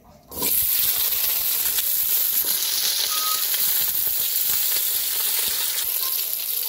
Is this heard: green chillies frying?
yes